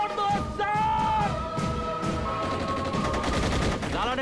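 Bursts of gunfire in a Hindi film scene about militants and soldiers at a border, rapid shots crackling over shouting voices and loud, chaotic action.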